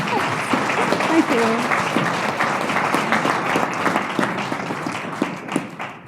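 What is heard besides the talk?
audience applause at a conference talk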